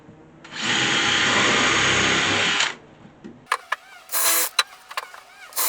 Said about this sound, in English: we can drill